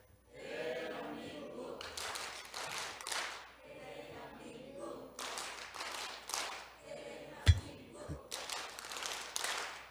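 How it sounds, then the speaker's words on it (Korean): A church congregation claps together during a Sunday service, bursts of group clapping in rhythmic clusters alternating with chanted voices, one sharp thump standing out near the end. "다시 힘있게 박수도 힘있게 시작."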